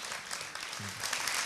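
A studio audience at a junior singing competition claps steadily for a contestant, a dense wash of applause that holds at even loudness through the short stretch.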